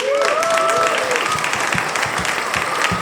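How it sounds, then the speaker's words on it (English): A studio audience at a talk-show taping on legal cannabis breaks into loud, close applause and a few cheers, dense clapping holding steady for the whole stretch. "Give yourselves a round of applause."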